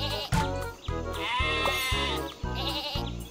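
Cartoon sheep bleat in a kids' train video game, where sheep are dragged back into their pen, heard over a steady, pulsing game music loop.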